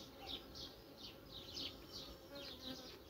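Honey bees buzz steadily around a developing swarm colony in a hive in June, a dense continuous drone with higher wingbeat whines rising and passing close by, no voices.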